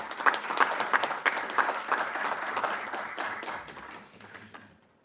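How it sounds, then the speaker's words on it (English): An audience at a university professorial inauguration ceremony breaks into warm applause, a dense burst of clapping that slowly fades away. "I think that deserves a round of applause."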